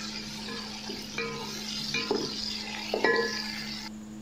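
Six or seven cut green chillies fry in a pot over a village cooking fire, a steady low sizzle with a few metal clinks and stirring scrapes of a spoon against the pot.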